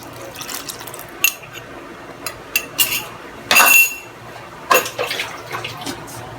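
Cornstarch slurry poured into a pot of lomi on the stove, with a few light clinks of utensil against the pot and a brief splashy pour and stir, close and moderately quiet.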